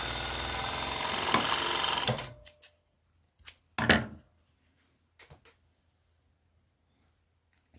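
A sewing machine closes the waistband of a pair of panties, running in a steady loud whir for about two seconds, then stopping, with a few short mechanical clunks and brief bursts after.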